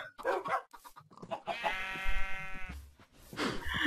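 A sheep bleating in the Minecraft video game while a dog bites it, giving a few drawn-out wavering bleats among short clucking game sounds, close and clear.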